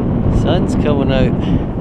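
Strong wind buffets the microphone on a hill summit in the Cheviot Hills, a loud, low, continuous rumble under a person talking.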